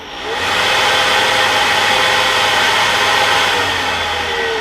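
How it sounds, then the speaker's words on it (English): A small cooling fan in a truck cab blows to keep a dashcam cool. It gives a steady, loud, broadband whir that holds even for several seconds, heard close with no talking. "I've got a fan that keeps the camera cool, and that's what you're hearing right now."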